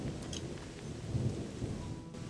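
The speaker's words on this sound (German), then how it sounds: "Ja, es regnet." Steady rain pours down with a low thunder rumble in a swampy area of the video game Odyssee, a continuous, even wash of noise with no talking.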